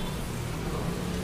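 Steady roadside rain pours down in a continuous dense hiss at a street food stall, loud and unbroken throughout the brief moment.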